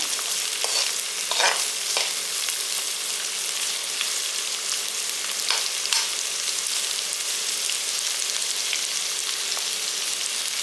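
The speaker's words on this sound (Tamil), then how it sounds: "காய் எண்ணெயில் கொஞ்சம் நல்லா வதங்கட்டும்." Chopped vegetables and green chillies sauté in hot oil, making a bright, continuous sizzle with scraping stir strokes that come back every few seconds through the whole stretch.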